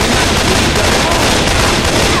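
Dense, continuous gunfire from Left 4 Dead 2, a loud sustained barrage of overlapping shots with no pauses, filling the scene at close range.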